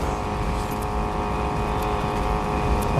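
A car engine in a video game holds a steady, loud, continuous drone with a constant tonal hum and no breaks, heard alone without talk.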